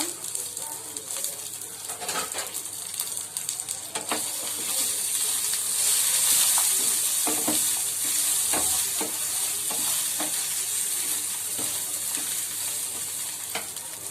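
Garlic cloves frying in a pan in a home kitchen, a bright continuous sizzle with repeated scraping stir strokes that grows slightly louder partway through, with faint bird calls in the background.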